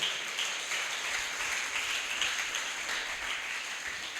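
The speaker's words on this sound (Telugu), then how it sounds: "అందరూ ఒకసారి చప్పట్లు కొడదాం," A church congregation at a Sunday worship service claps together in sustained, fairly even applause that fills the whole stretch at moderate volume.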